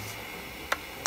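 Two sharp, isolated ticks from an engine with a dropped intake valve sound close by over a soft steady background hiss.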